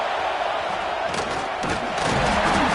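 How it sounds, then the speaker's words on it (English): A home football crowd cheers loudly and continuously in a large stadium, forming a dense, roaring wall of voices that swells slightly toward the end. "this home crowd is fired up and ready to make a difference today"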